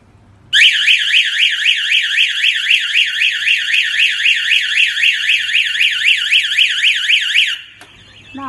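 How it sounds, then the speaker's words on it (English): A fire alarm on a fire alarm telephone system sounds a loud, rapidly warbling electronic siren that rises and falls evenly for about seven seconds before cutting off, with a faint low hum underneath. "Now I'm going to show you the fire alarm active."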